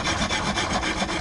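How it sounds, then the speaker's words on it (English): Hand sanding of a wooden electric guitar neck from a cheap Chinese guitar, a close, steady rhythmic rasp of abrasive strokes back and forth, with no talking. "I've got quite a bit of sanding to do all over it"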